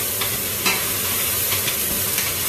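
Onions sear in a hot pan with a loud, continuous close-up sizzle and a few brief louder spits and crackles, no talking.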